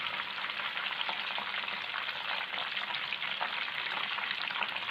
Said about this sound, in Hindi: दूसरी साइड को भी थोड़ी देर तक हम फ्राई करेंगे